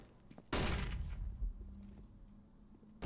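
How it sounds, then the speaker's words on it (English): A flashbang grenade detonating in Counter-Strike 2, one sharp, loud bang that decays into a ringing tail under a low hum, with quiet sounds before it. "Deploying flashbang."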